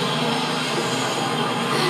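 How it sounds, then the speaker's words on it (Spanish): Water rushes in a continuous, loud gush, like a toilet flushing heard up close, steady for the whole moment. "Cuando le bajan al baño, este sonido es el sonido del retrete."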